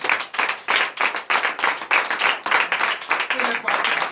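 A church congregation at a night deliverance and prophecy service in Comè, Benin claps hands together in fast, steady, loud applause, with voices in the room underneath.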